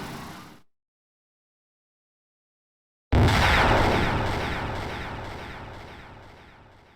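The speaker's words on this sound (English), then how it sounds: "That was a very tame explosion." A deep, booming explosion from the video game Undertale bursts in suddenly after a silent gap, then rumbles and slowly fades over several seconds.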